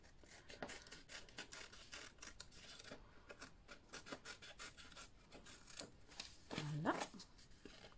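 A paper trimmer (massicot) slices through paper for an explosion-box craft, giving faint, repeated scraping strokes with a slightly louder cut near the end, with no voices.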